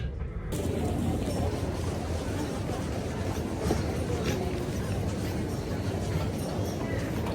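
Train pulling into Gatwick Airport station on the route toward Bognor Regis, a steady loud rumble of wheels and carriages filling the whole stretch, with faint clatter and no clear speech.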